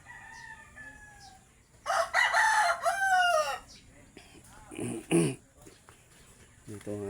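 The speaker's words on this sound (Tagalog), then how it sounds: "Tapos yun ng mga manok" Roosters crow and chickens cluck at close range among farm animals being fed, with several drawn-out crows and shorter clucks, while people talk nearby.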